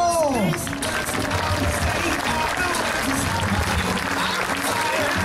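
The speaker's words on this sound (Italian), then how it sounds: "Diamo il benvenuto alla pattuglia con un forte applauso." Loud, sustained crowd applause at the Jesolo European Air Show, welcoming the Patrulla Aguila aerobatic team, with a broad wash of clapping and some cheering, continuous throughout at close range.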